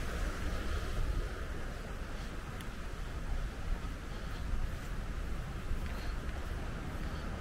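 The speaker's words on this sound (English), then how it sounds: "There's the Spencer's Creek, which is an outlet from the Webster's Falls" Spencer's Creek flows below Webster's Falls near Hamilton, a constant broadband rush of moving water, fairly loud and steady, with faint outdoor ambience and no talking.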